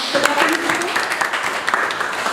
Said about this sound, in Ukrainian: Ми їм аплодуємо всім разом